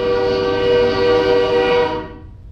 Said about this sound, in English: Look, I can't stop the train from coming.